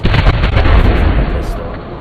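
A grenade blast in XCOM Enemy Within: one loud, dense explosion rumbles through its whole short length and slowly fades out.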